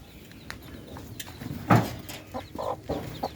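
Newly hatched chicks on a backyard farm, giving scattered short peeps and cluck-like calls close by, with one louder call in the middle and no talking.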